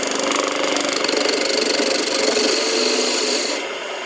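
A chisel cuts wood on a spinning lathe while shaping a tool handle, a continuous harsh rasping scrape with fine rhythmic chatter that stops abruptly near the end.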